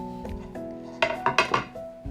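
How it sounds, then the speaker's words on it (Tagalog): Dishes and pots clink as a plate is taken out for a serving of coconut-milk tuna and squash, with a harmonic ring of metal and crockery followed by several sharp, close clanks in a quick cluster. "kukuha na po ako ng pinggan"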